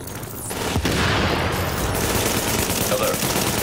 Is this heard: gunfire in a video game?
yes